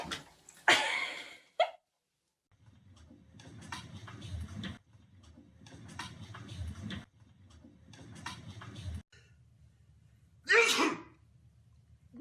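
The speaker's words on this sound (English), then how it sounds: "I sneezed." A person sneezes twice, two sharp, close bursts roughly ten seconds apart, with softer rustling and breathy background noise between them.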